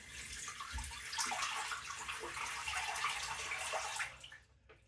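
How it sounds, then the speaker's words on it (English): Tap water runs steadily over a Muhle shaving brush with a black fibre knot, a soft continuous hiss and splash at close range that fades out near the end. "And we'll just run that under some water."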